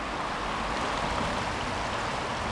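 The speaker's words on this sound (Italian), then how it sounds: "allora questo è il fiume" The Olona river runs below a house in Valganna near Varese, a steady broad rush of flowing water that stays even throughout with no voices.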